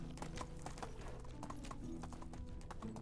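Horse hooves clip-clop in a steady galloping rhythm in the video game Medieval Dynasty, loud and close over a constant background of game music, with a brief whinny-like tone.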